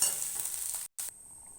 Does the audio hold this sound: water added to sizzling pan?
yes